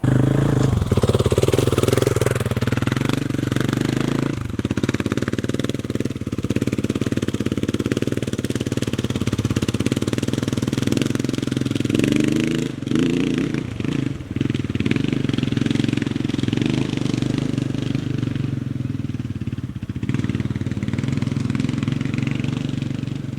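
A KTM 500 EXC motorcycle fitted with a Power Bundle kit roars loudly and continuously, its engine revving and pulling hard through gears with brief dips in pitch, close and unbroken by voices.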